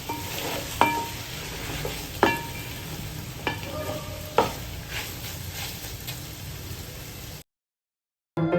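Village mushrooms frying in oil, a continuous sizzle broken by several sharp metallic clinks of a stirring spoon against the pan, then a short cut to silence near the end.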